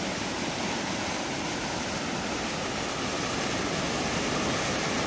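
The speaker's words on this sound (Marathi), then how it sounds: "पाणी एवढं नदीला आलंय." A flooded Jamda river rushes past near Kolamb bridge in a loud, continuous roar of churning water that stays steady and dense throughout, with no voices.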